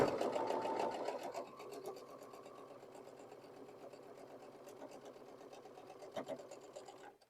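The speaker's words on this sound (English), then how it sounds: "Let's go to the sewing machine" Sewing machine stitching flying geese quilt blocks, a steady rapid needle chatter that runs continuously, loudest at the start and then settling to an even hum with a brief bump near the end.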